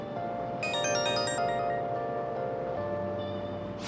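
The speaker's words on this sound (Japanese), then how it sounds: "電話、" A phone rings in the Persona 5 Royal video game, a bright chiming electronic melody over a sustained background music bed, loud and clear, with no speech.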